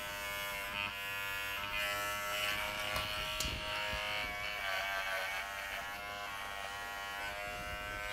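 A Wahl Figura lithium-ion cordless clipper grooms a Standard Poodle, giving a steady, close electric buzz with a bright whine that runs without a break and shifts a little as the blades work through the coat.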